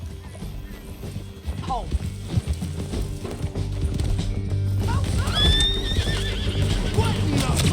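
Horses in Red Dead Redemption 2 gallop with steady clip-clop hoofbeats and let out several whinnies during a canyon ride, while a voice speaks a brief word over the hooves.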